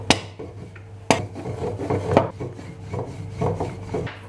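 Pastry dough sheets dusted with starch are rolled out to plate size for Laz böreği, giving soft irregular rubbing and knocking sounds of a rolling pin on a board, close and fairly loud with no talk.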